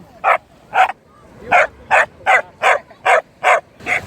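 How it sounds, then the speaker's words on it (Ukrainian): A single dog on a beach in Odesa yaps in a steady series of about ten sharp, loud, close barks at an even rhythm, with no talking over it. "Вона гавкає, мене кусає за ноги, нормально."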